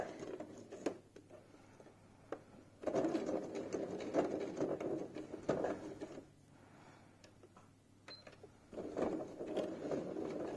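A sewing machine stitches quilt-as-you-go half square triangle blocks, running in steady whirring bursts with short pauses between seams, close and fairly quiet.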